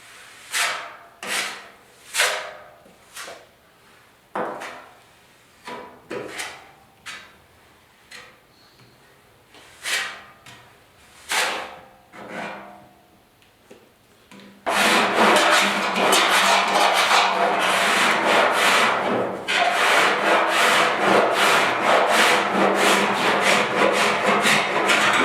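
Body filler on a 1972 Ford 4X4 truck tailgate is worked by hand with 40 grit paper: rhythmic rasping strokes at first, then a dense, continuous scratchy scrubbing that runs loud and close to the end.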